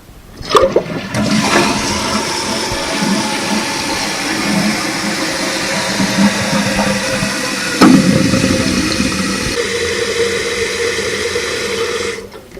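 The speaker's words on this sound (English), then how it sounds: "So now we'll try flushing it, see if it works by itself." Toilet flushed after a new fill valve is put in: a loud rushing flush starts abruptly, surges again midway, then settles into a steady refilling hiss before cutting off, with no talking.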